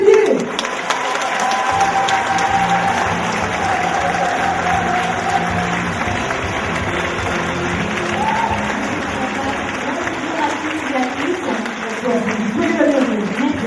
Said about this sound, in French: Je vous demande, Montargis, un tonnerre d'applaudissements pour Madame Sylvie Tellier.